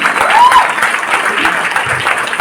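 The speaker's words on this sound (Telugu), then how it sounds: "so please Bigg round of applause" Audience applause at a business seminar after a leader is introduced, a steady wash of clapping filling the whole stretch, fairly loud and close, with a faint voice briefly heard over it.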